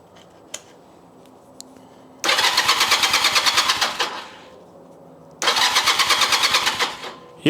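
Starter cranking over a neglected Honda CM250 motorcycle engine, in two loud rhythmic bursts of about two seconds each, with quiet pauses between them.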